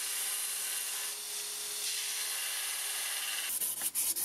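Power grinding shapes the handle and pommel nut of a WW2 CuMai commando dagger in a knife-making workshop, a steady close abrasive rasp for about three seconds that breaks into a few short irregular scrapes at the end.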